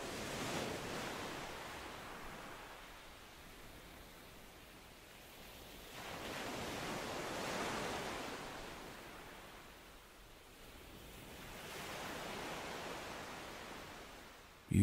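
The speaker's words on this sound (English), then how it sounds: "You are sitting on a beautiful, deserted beach. The tide is slowly coming in." Ocean waves wash onto a deserted beach as the tide comes in. Slow, soft surges swell and fade about every five to six seconds, with a breezy hiss between them.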